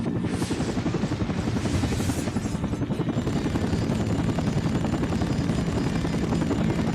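A helicopter in the Vietnam-era combat flight game Air Conflicts: Vietnam roars steadily with dense rotor chop and engine drone, loud and continuous, with faint bursts of gunfire-like noise early on.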